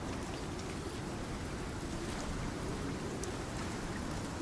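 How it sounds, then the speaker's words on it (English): Steady rain pours down in the survival video game Icarus, a dense, continuous hiss of drops beating on a surface, unbroken and even throughout with no voices. "How am I getting rained on in here?"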